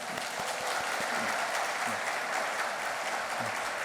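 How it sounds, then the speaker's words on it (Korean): A church congregation claps steadily for the children at an early-morning prayer service, a dense, even wave of applause filling the room from start to finish. "잠들기 전에 우리 친구들 축복하는 마음으로 박수 한번 냈으면 좋겠습니다."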